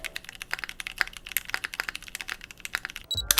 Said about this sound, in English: This is the VAS60R1, my first full custom keyboard.